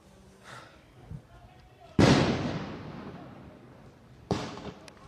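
Police fire at protesters in Kenya: a loud close blast with a long decaying rumble, then a second sharp report a couple of seconds later, with faint voices between.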